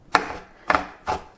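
Knife chopping a toffee and chocolate filling for a dessert challah on a cutting board, three distinct sharp chops spaced evenly and heard up close, with no talking.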